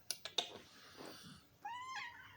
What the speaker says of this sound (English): You're a crazy cat.